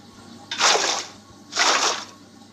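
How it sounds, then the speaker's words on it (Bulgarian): Water placed block by block in a block-building video game, heard as two short rushing, gushing water bursts about a second apart, fairly loud, with no talking. "Слагате така водата."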